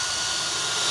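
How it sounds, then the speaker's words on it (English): Power drill pre-drilling into timber cavity slats on a tiny home build, a steady loud high-pitched whine held continuously throughout with no talk. "Okay, so I'm going to pre-drill"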